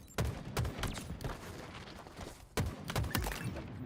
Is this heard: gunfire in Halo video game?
yes